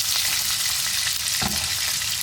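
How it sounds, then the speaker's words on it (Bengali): Thin strips of dried lotia fish frying in hot oil in a pan, a close, loud, continuous sizzle with a brief stirring knock midway. "একটু কড়া করে ভাজবো, যেন এর মধ্যে কোনো রকম গন্ধ না থাকে।"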